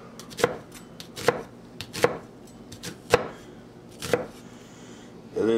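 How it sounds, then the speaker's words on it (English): A knife dices onion on a cutting board for egg salad, making six crisp, close chops at a steady, unhurried pace of roughly one per second, with no voices. "We definitely want to make a dice, so they're a small dice because you don't want, you know, a big chunk of onion."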